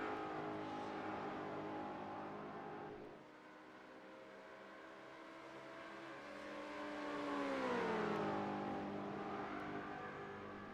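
LMP2 prototype race cars at Spa in iRacing, engines droning at high revs with rising pitch sweeps as cars approach and pass, steady and moderately loud without talk.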